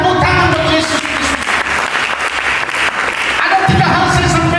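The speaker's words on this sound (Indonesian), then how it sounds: "Berikan tepuk tangan untuk Yesus Kristus." A congregation at a church service breaks into loud, dense applause that fills the room and holds steady throughout, with a preacher's voice carrying over the start and end of the clapping.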